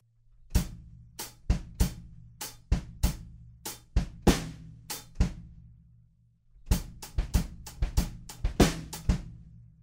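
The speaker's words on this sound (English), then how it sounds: "At the end of that we use our kick drum pickups again, and it sounds like this." Close, punchy drum beat with deep kick hits and sharp snare and cymbal strikes, a short break, then the rhythm resumes with busier kick pickups.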